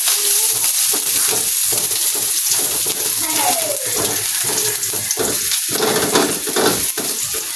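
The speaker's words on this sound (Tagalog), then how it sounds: "At yan po tayo mag-igisa, no?" Ingredients sauté in a pan for rotini tuna pasta, a steady close sizzle and hiss with occasional stirring, partly under a voice talking.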